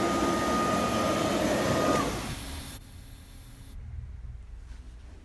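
A Quincy QGS 7.5 HP rotary screw air compressor with dryer and tank runs with a loud, steady whirring hiss near 150 psi. After about two seconds it winds down and shuts off, leaving a fainter residual hum and hiss.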